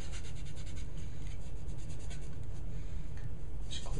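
Cloth rubbing over the textured grip of a Glock 23 pistol, wiping it clean with alcohol: a steady, close scrubbing and rasping that continues without pause under a constant low rumble, with no talking.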